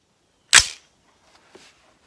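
A Springfield Armory Saint Edge rifle fires a single sharp, loud shot at steel targets 300 yards away, followed by a brief decaying echo and a faint distant ping of the round striking steel.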